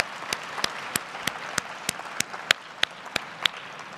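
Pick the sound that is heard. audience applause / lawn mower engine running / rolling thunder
audience applause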